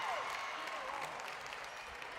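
At a high school volleyball match, Davison versus Flushing, a gym crowd of parents and fans cheers and yells in a continuous dense roar, with clapping mixed in.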